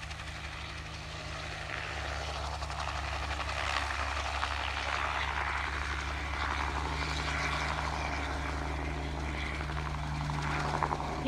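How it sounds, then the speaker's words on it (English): A crop duster helicopter drones overhead on a July day, its rotor and engine a steady, fairly distant hum that grows a little louder partway through, with no talking. "Yep, it's a crop duster."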